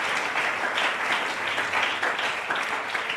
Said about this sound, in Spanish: Si ese aplauso es para Dios, de lo más fuerte.